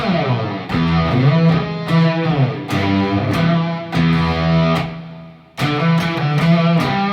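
Distorted electric guitar chords ring out loudly with a washed, spacious, distant-sounding reverb tail, strummed in sustained phrases with a brief gap before resuming.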